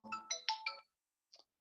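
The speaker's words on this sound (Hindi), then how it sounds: "किसका फोन आ गया भाई सुबह सुबह" A mobile phone ringtone goes off during a maths lecture, a short bright melodic phrase of several tones that stops, followed by one brief faint tone.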